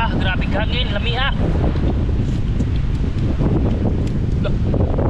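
Strong wind buffets the microphone on a boat, making a loud, continuous rough rush. A voice talks briefly at the start and other faint sounds come through underneath.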